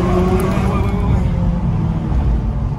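Audi S1 engine pulling hard under acceleration on a loose dirt surface, a loud steady rumble that continues throughout with no speech.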